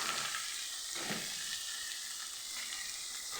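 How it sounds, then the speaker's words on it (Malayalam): Masala for chicken curry sizzles and fries steadily in a pan as it is stirred, a soft continuous crackle with a few brief scraping strokes, close and fairly quiet, with no talking. "നന്നായി ഇളക്കി കൊടുക്കാം."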